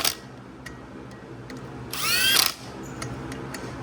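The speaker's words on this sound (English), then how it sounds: "I'm gonna just kind of run them in with this gun, just slowly, just get them a little snug so that we can torque them" An impact gun runs bolts down on a BMW E36 fitted with an LS engine, giving one short whirring burst of about half a second amid faint shop clicks.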